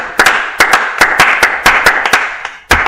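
A church congregation claps in a quick, uneven rhythm of sharp, loud hand claps, close and dense, with no voices over it.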